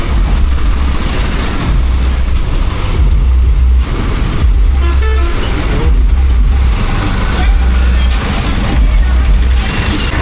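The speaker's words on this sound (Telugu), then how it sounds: "ట్రాఫిక్ జామ్ మాత్రం మామూలుగా లేదు" Heavy road traffic jam on a motorcycle ride toward Ladakh: a constant loud roar of engines and wind, with a brief tonal horn blast midway and voices in the mix.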